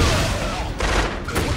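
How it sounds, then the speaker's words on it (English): Artillery fire in a Tekken 8 story-mode scene comes as loud, close bursts of booming blasts over rumbling low noise, with sharp hits landing in quick succession. "Artillery fire!"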